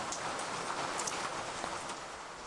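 Steady rain falls in the horror video game Kiosk, a dense, even hiss of drops with faint scattered patters on surfaces, continuous and without any voices.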